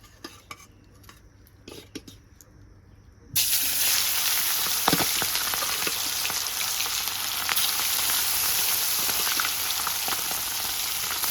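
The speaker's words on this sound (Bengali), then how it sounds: "মাছটা মাখাবো ভালো করে, দিয়ে ভাজা বসিয়ে দেব" Rohu fish pieces, rubbed with salt, frying in hot oil for a fish curry: a few quiet clinks, then a sudden loud, steady sizzle that continues to the end.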